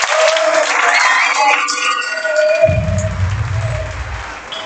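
Audience applause at the closing ceremony of the Kayak Surf Worlds in Argentina, a broad loud burst of clapping and cheering that fades toward the end, with a voice over a microphone.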